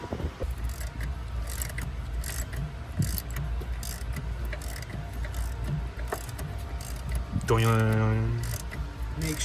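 A ratchet drives a crank saver stud into an S650 Mustang crankshaft, giving rapid repeated clicking in short runs against a constant background hum, with a brief tonal whine near the end.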